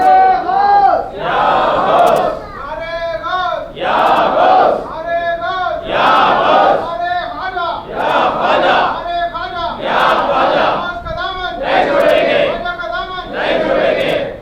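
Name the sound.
crowd shouting Nara-e-Ghaus slogans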